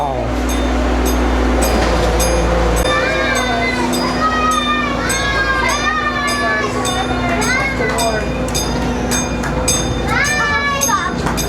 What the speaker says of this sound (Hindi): ये जो है ना ट्रेन जाने लगी है भाई